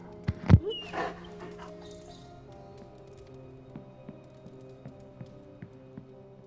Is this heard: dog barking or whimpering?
yes